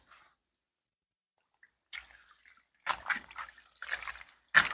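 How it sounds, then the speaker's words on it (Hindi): Bathua greens are rinsed by hand in water in a container in a village setting, giving sparse splashes and sloshes that gather into a few louder bursts of swishing water toward the end. "बढ़िया से अभी धो रही है ये डब्बा में, दो तीन बार धोएगी"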